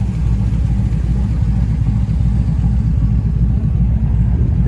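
A cammed 5.3 V8 in a Chevy Tahoe on 26-inch wheels rumbles steadily and loudly while driving, its deep, lumpy exhaust note constant throughout with no talking.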